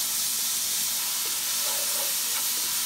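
Red onions sauté in a hot pan for tinumis, making a steady, dense sizzling hiss close by with faint crackles, uninterrupted and without voices.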